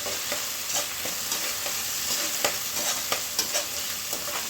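Tomato and onion sizzle in a hot pan while a utensil scrapes and stirs in irregular knocks, the frying hiss continuous underneath.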